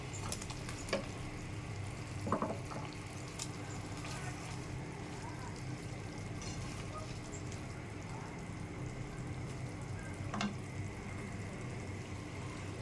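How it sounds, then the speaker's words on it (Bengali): Puti fish going into hot spiced oil in a pan, a steady close sizzle and frying hiss running throughout with a few brief clinks and stirring knocks. "মশলার গায়ে তেল ছেড়ে গেছে, মাছ দিয়ে দেবো।"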